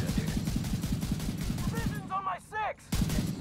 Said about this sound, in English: we have fully automatic rifles now